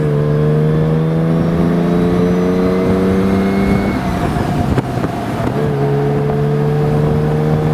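Jaguar E-Type roadster engine at speed on the road, a loud steady drone with rising pitch that dips briefly around a gear change before resuming, heard from inside the open car with no talk.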